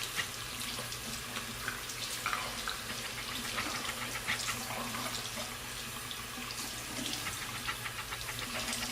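Tap water runs steadily into a sink while makeup brushes are rinsed clean, a continuous close splashing hiss with small irregular spatters throughout.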